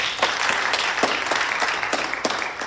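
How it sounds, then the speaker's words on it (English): A church congregation applauds, a dense patter of many hands with a few sharper individual claps standing out, fairly close and steady throughout. "And let's give a round of applause for Mary for making it up."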